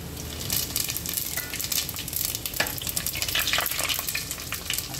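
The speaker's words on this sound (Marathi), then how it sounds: "लवंग तेलात गेल्यावरती पटकन उडते" Whole garam masala spices and cloves sizzling and crackling in hot oil in a pressure cooker for chicken biryani, a dense, steady hiss with small popping bursts, close and without talking.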